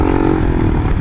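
A KLR motorcycle engine runs loud and close with a rough, steady single-cylinder throb, heard alone for a brief moment.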